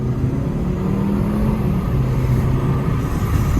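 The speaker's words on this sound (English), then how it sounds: "You can hear the turbo." Engine and turbo of a 2023 Kia K5 GT-Line fitted with a Burger Motorsports pedal tuner at its highest setting, a steady loud low drone with a faint whistling layer held throughout, no voices.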